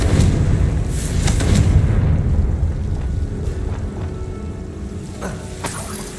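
Spell blasts from Bombarda and Confringo in Hogwarts Legacy land as loud booming explosions, with a heavy rumble early and sharper bursts near the end.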